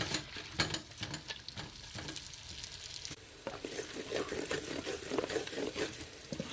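Onions for gobi keema fry in a pan with a continuous sizzle, stirred now and then with sharp scraping clicks, steady and fairly close with no talking.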